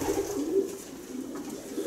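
A racing pigeon, half Drișca and half Verkerk, coos softly in a low, murmuring phrase, faint and close with no other sound.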